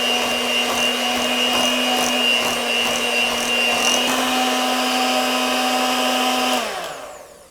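An electric mixer whirs steadily at close range while blending cheesecake cream filling with sugar and pink salt, a constant high-pitched motor hum that winds down and stops near the end.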